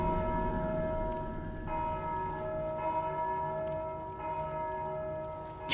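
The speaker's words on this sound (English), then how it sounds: "I hear a bell." A bell tolls in the video game Dark Souls II, its steady ringing tones sustained over the full length under a bed of low game ambience, with no voices.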